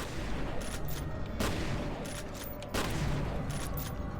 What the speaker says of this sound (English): We're gonna switch to shotgun instead.